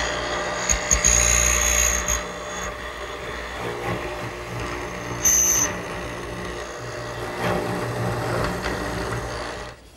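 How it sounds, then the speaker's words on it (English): A mortiser drills through mortises in wooden posts for quilt rack stretchers, a steady motor whine with grinding cutting bursts and brief high squeals, close and loud, running without talk. "I've readjusted my mortiser and we'll drill those out"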